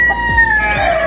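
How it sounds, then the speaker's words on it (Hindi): Chickens cluck and a rooster calls close by, loud and clear over a short stretch, with a young chick nearby among the flock. "वो देखो छोटा सा चूजा वो रहा, छोटा बेबी इसका नजर आया, काला वाला छोटा सा।"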